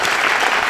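An audience at a real estate podcast recording breaks into brief, dense clapping, loud and close, filling the short moment without a break.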